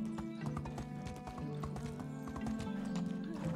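Horse hooves clip-clop in the video game Medieval Dynasty, a steady rhythmic trot over a looping musical background, with someone talking over it.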